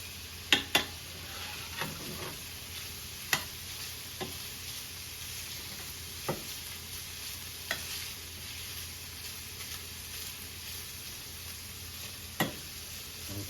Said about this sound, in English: the sound of the frying pan was loud